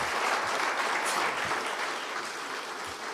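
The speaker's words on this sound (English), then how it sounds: "let's warmly acknowledge them with a big round of applause." Audience applause at the ICEMA Annual Session 2023 as dignitaries stand on stage, a steady, dense clapping that holds at an even level for about three seconds with no voices over it.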